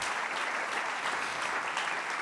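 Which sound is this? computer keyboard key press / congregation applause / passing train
congregation applause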